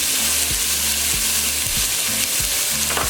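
Ground meat seasoned with salt, pepper and Italian seasoning sizzles steadily in a pan for a baked ziti sauce, with a few soft scraping stirs punctuating the constant close frying hiss.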